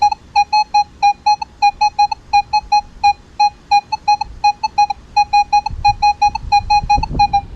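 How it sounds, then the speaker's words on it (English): A Minelab X-Terra Pro metal detector sounds a run of rapid, high-pitched beeps over a dime, steady repeated chirps with a faint low rumble of handling noise near the end. "you're going to hear that the dime is going to sound a much higher pitch than what it sounded before, even in all tones"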